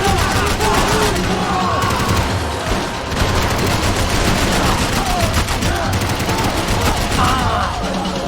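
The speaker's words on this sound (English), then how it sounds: "Bullets whizzing past my head!" Max Payne 3 gunfight with sustained loud gunfire, overlapping shots and whizzing bullets filling the scene, with shouting voices mixed into the dense, continuous barrage.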